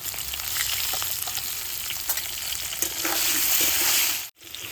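Potatoes frying in hot white oil with salt and turmeric make a loud, steady sizzle with light stirring scrapes, then a brief cutoff just before the end.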